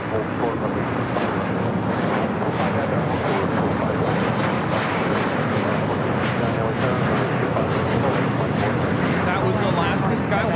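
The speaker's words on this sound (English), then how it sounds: "That was Alaska SkyWest 3451 taking off to Monterey on the E-175." An Alaska SkyWest Embraer E-175 jet takes off at LAX with a loud, steady roar that fills the whole stretch, broad rushing engine noise with wind buffeting the microphone.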